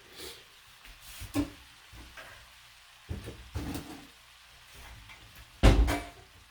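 Sausage and cabbage cooking in a skillet, with quiet sizzling under scattered clinks and knocks of utensils and cookware, and one louder clatter near the end.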